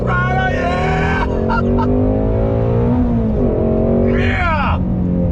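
A Shelby GT350R engine revs hard on throttle, loud and close, with a rising howling note that dips and climbs again, while a voice briefly shouts over it.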